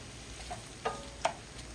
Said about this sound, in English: So these shrimp are cooking well.